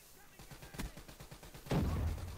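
Rapid automatic gunfire in Call of Duty: Black Ops 3, a fast rhythmic burst of shots followed by a louder heavy blast, heard under a player's talk.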